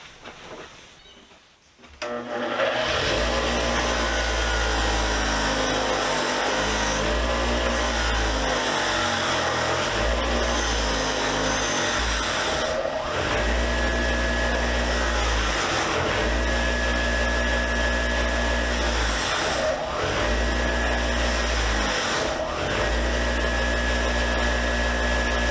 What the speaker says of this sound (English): they cleaned up rather well from the wire wheel alone